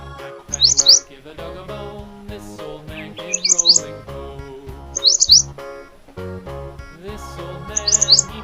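A bulbul bird's chirping comes in four short, bright bursts, spaced a couple of seconds apart over a steady musical backing.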